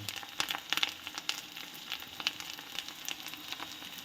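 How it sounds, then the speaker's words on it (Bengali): Spice masala of Kashmiri chili powder, salt and cumin powder sautés in a pan for an okra dish, a quiet sizzle broken by repeated clicks and scrapes of stirring. "এবার আমি আবার ভালো করে মশলাটা কষিয়ে নেব"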